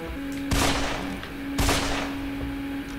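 Two loud gunshot blasts in the video game Deadfall Adventures, about a second apart, each with a sharp crack and a long ringing tail over a steady hum.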